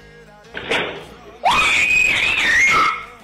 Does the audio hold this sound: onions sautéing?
no